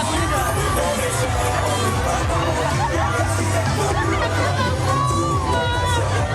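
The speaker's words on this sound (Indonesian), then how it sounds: "Ribuan warga baik pendukung dan simpatisan ini ricuh berebut kaos yang dilempar oleh Joko Widodo dan Lutfi." Thousands of supporters jostle and shout while grabbing for T-shirts thrown during a street campaign procession in Purwodadi, a loud, constant wall of crowd babble and cries pressing in from all sides.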